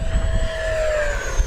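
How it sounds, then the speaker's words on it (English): An FMS Viper Jet 70mm RC ducted-fan jet flies past, giving a steady whining roar with a high tone that slowly falls in pitch over a constant rumbling wind-like bed, with no talking. "Wow, nice jet. Yeah, they got a winner with this thing."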